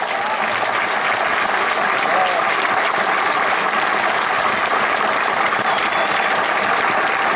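An audience applauds loudly and steadily for a singer at a live music performance, a dense wash of clapping hands that carries on without a break, with a few voices mixed in.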